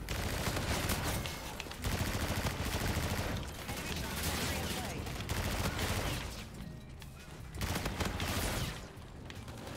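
Dense automatic gunfire in the shooter game Call of Duty: Infinite Warfare, loud continuous bursts with short gaps, with a player's voice talking in places.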